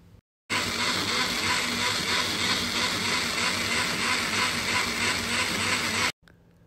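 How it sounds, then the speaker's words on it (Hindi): A kitchen grinder whirs loud and steady for about six seconds, grinding cooled fried masala into a thin paste, starting and stopping abruptly. "इस मसाले को ग्राइंड कर लेंगे अच्छे से पतला पेस्ट बना लेंगे इसका"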